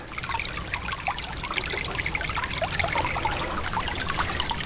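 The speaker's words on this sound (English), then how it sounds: "And the only noise now is the gurgle of the water." Continuous gurgling and trickling of a flowing stream, steady and fairly close, with bubbling splashes and no voices.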